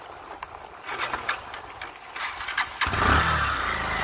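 A motorbike on a village road in Nuwakot, Nepal, engine revving up after a quieter stretch, with a broadband roar that swells near the end and stays loud and close.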